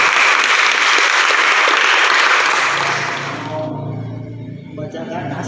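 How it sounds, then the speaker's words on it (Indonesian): A room of youth at a Bible study session bursts into loud, dense clapping for a group that has just presented, holding strong for about three seconds before thinning out and fading as voices carry on underneath. "Tepuk tangan kelompok 1."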